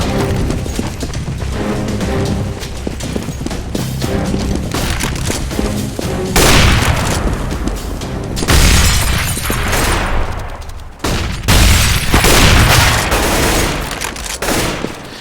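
Game audio from a Valorant-style match demo, where Falco's grenade goes off among loud overlapping gunfire bursts and booming blasts that come in heavy waves across the scene.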